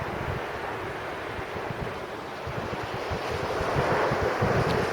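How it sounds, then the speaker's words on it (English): Steady wind buffeting a microphone on a seaside beach, with a constant broadband roar and low rumbling gusts that swell slightly toward the end, and breaking surf blended underneath. "Oh, the wind has already started."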